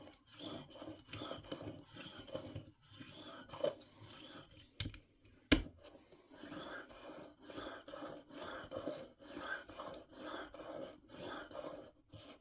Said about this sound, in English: when you're sharpening one of these curved broadheads